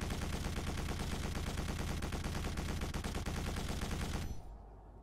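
Sustained rapid gunfire from Quake 4, dense and loud, a continuous barrage of automatic shots that cuts off abruptly near the end, leaving a low rumble.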